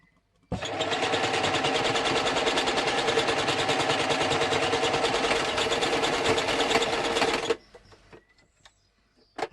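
A sewing machine zigzag-stitches a caravan mosquito net, starting abruptly with a steady fast whirring chatter close by for about seven seconds, then stopping into quiet handling clicks.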